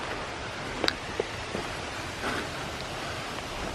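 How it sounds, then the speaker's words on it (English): A waterfall in a foggy forest in Shawnee National Forest sends out a steady, broadband rush of water that fills the scene evenly, with a few small clicks and taps on top. "Folks, I think there might be another waterfall."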